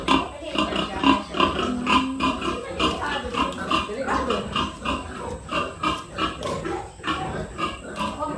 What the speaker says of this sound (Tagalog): Ang dami inahin ni nanay pala.